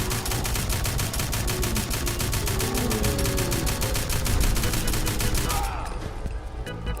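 Rapid, continuous bursts of splatter cannon gunfire in Fallout 4 rattle loudly in a steady stream, then cut off near the end.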